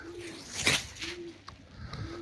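Pigeons coo softly in low, repeated rolling calls at a steady rhythm inside a pigeon loft, fairly close, over a faint airy background hiss.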